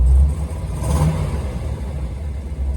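A carbureted car engine with bigger jets idles at a steady low rumble nearby, the electric cooling fan switched on and running alongside it.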